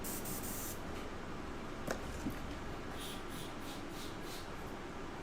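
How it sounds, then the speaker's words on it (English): An airbrush sprays water in a steady, continuous hiss that stays close and even throughout, broken by a couple of faint clicks near the middle. "He's just squirting water into the airbrush cup while he's spraying it"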